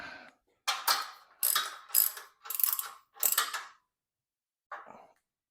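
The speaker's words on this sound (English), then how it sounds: "And now it's the 3/4 inch ratchet." A 3/4 inch ratchet clicks through five quick bursts of tightening strokes on the bolts of a functional trainer's weight stack, followed by a pause and one short final burst, close and distinct with no talk.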